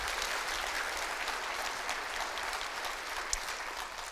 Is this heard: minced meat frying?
no